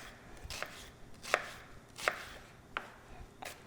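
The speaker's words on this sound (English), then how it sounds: "We're going to take our onion, again, finely chopped" A knife finely chopping onion on a board in a home kitchen, five separate sharp chops spaced about half a second to a second apart, close but soft, no talk.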